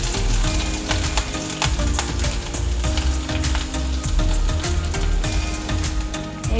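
Curry leaves, a green chilli and a finely chopped large onion fry in oil for traditional kuzhi paniyaram, a dense continuous sizzle with stirring, with no voices.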